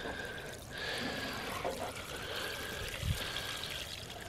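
Water trickles and pours out of milk jugs shot with a 7mm Remington Magnum rifle outdoors, a soft steady splashing stream onto grass, fairly faint, with a small low thump near the end.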